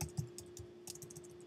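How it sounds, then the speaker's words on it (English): Typing on a computer keyboard, with a few soft, irregular key taps, quiet and close, alone over a faint steady hum. "I am typing here."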